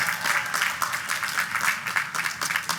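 Commencement audience applauding the Borough President at a Queens College graduation ceremony, a steady wash of clapping heard from a distance at moderate level.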